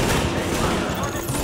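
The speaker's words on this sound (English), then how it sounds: "Reporting gunfire in the station above us." Gunfire in Grand Central Station in the video game The Division comes as a dense, rapid burst of shots, loud and continuous through the short clip.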